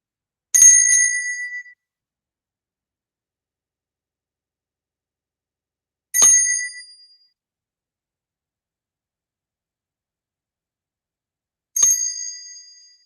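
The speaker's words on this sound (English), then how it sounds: "I'm gonna ring this bell 3 times." A small hand bell, bright and ringing like a bicycle bell, struck three times at slow, even intervals, each ring decaying into complete silence before the next.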